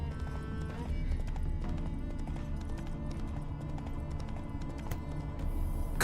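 Roach, the horse in The Witcher 3: Wild Hunt, clip-clops at a brisk, regular gait with close, distinct hoofbeats over background music, with no speech.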